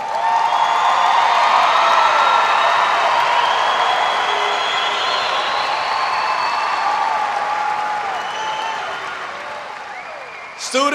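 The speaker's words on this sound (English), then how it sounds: "Let's give these graduates a round of applause." A large crowd at a 2019 high school graduation ceremony applauds the graduates with a loud, sustained roar of clapping and some cheering voices, steady for several seconds and easing off slightly near the end.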